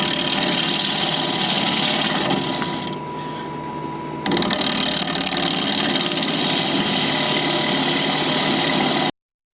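A wood lathe turns an alder live-edge bowl at 1100 RPM, giving a loud, steady broadband whir with a brief dip in the middle of the run before it resumes at full strength.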